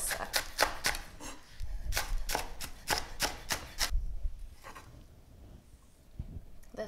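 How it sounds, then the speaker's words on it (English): A knife thinly slices fresh scallions, white and green parts, on a bias on a cutting board, giving about a dozen quick, crisp, close chops in a brisk run that stops partway, then a few faint taps follow. "Just want to slice those thinly on a bias."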